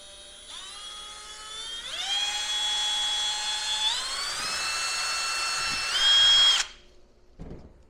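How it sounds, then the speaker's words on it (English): Power drill boring a hole while a Surron Ultra Bee street legal kit is fitted: a loud, steady whine that climbs in pitch in stages and surges near the end before cutting off sharply, followed by a brief clunk. "and then you got that first hole drilled"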